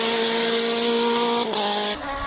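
Single-seater race car with a 2-litre four-cylinder engine at a Cape Town hill climb, a loud, close, high-revving engine note that climbs steadily, drops sharply on two quick gear changes and keeps pulling.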